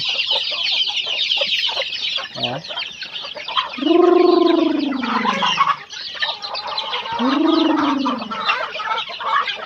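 Farm chickens cluck close by while being fed. Busy rapid clucking fills the background, and two louder drawn-out squawking calls stand out near the middle and end.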